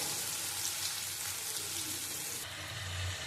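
Chicken pieces fry in a pan with spices, giving a steady, close hiss of sizzling oil that runs unbroken throughout, with no talking.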